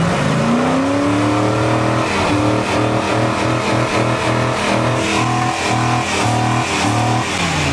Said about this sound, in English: We're gonna take it for a little drive